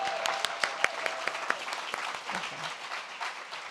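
A small audience at a Detroit school event gives a short round of clapping for students, with a few sharp distinct claps standing out near the start before the applause thins and fades.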